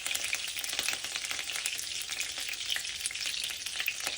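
Curry leaves crackle and sizzle in hot oil and melted butter in a pan, a close, continuous frying hiss with sharp little pops and no talking.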